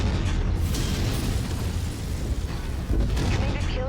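A heavy, sustained explosion roars close and loud during MechWarrior 5 combat involving a King Crab mech, a thick rumbling blast that dips briefly then surges again near the end.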